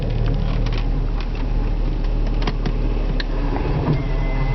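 A vehicle on an off-grid solar homestead reverses with difficulty, producing a continuous loud mechanical whir and hum with scattered clicks and rattles over a steady low drone.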